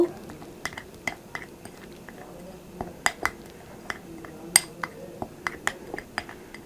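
A spoon scrapes and clinks against a bowl while mixing powdered milk with other ingredients into a smooth paste, producing irregular sharp taps and scraping at close range, fairly quiet.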